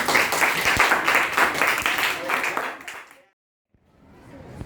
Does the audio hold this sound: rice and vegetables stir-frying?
no